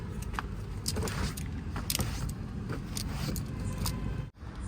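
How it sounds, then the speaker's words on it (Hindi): A car pulling into a parking spot, with a continuous low engine rumble, scattered clicks and clunks, and a sharp drop near the end as the motor cuts off. "मैं अब पहुंच चुकी हूँ, गाड़ी को पार्किंग में लगा दिया।"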